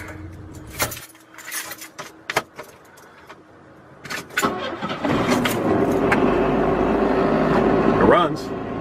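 An S10 pickup truck with a triple horsepower upgrade starts up: keys jangle and scattered clatter first, then the engine catches around five seconds in and keeps running loud and rough while a person talks nearby.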